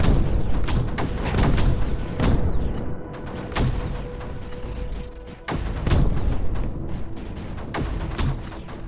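Mortars and snipers firing in the video game Creeper World 4, a run of loud booming shots with sharp sweeping whooshes, repeating every second or so, with no one talking.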